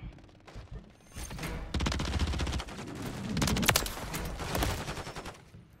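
Rival 9 submachine gun fire in Call of Duty MW3, rapid automatic bursts with a sharp crackling rattle, starting after a quiet moment and continuing in a few sustained strings.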